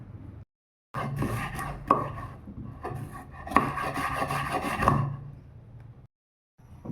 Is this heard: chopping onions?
yes